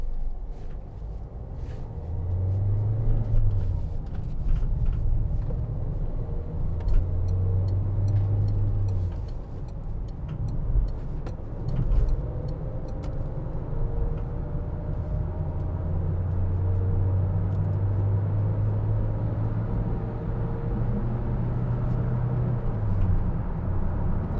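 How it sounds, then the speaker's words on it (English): A 2014 Peugeot Partner 1.6 HDi van cruising at around 70 mph on a motorway, a steady low engine and road drone with wind rush, interior perspective, continuous and even, with no talking. "just take it up to 70 on the motorway"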